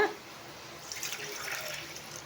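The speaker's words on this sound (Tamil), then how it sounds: "இப்போ வந்து தண்ணி ஆட் பண்ணிக்கலாங்க." Water pours steadily into a pan for a couple of seconds, a soft close splashing trickle with no talking.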